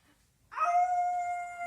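An actor in a village-club children's stage play of Little Red Riding Hood imitates a crying wolf: after a brief quiet, a single sustained, steady howling whine rises and holds, fairly close and clear, with no talking.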